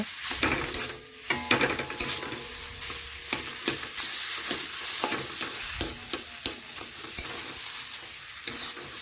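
Mashed potato being stirred and pressed in a hot pan for potol chop filling, with steady sizzling frying under repeated scraping and clanking strokes of a utensil against the pan, close and fairly loud, no talking.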